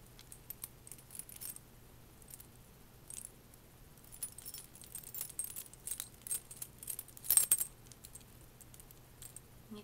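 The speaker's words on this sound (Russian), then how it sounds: "вот иногда я их достаю, эти ключи, когда иду до дома," A bunch of keys on a chain jingles and clinks close up and quietly, with scattered metallic taps that grow busier and louder toward the end.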